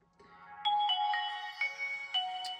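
A Nokia N95 phone plays its startup tone, a bright, clean electronic melody of several rising chimed notes after a soft click, close and alone with no talk.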